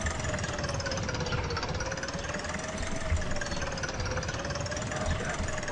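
Tractor engine running in the historical farming game Agricultural Simulator Historical Farming, a loud continuous knocking idle with a steady mid-pitched drone and slight pitch wavering, no voices.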